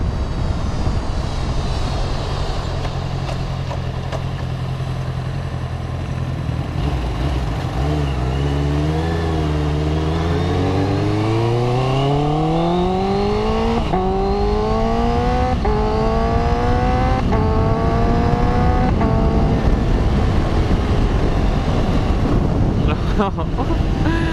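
A Honda CBR 650R engine revs hard while riding, pitch climbing steadily through several gear pulls with short dips at each shift, loud and close over wind rush, with a voice talking over it.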